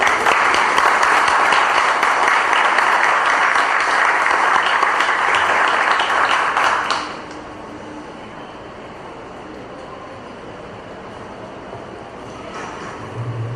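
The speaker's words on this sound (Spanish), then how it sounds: "este aplauso es para ustedes" Audience applause at a book launch for award-winning literary works, loud and dense for about seven seconds before stopping abruptly, leaving a quiet room with faint background noise and a soft sound near the end.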